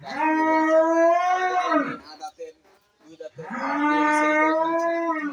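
Jersey dairy cows on a farm give two long, loud, close moos separated by a brief quiet gap with faint knocks.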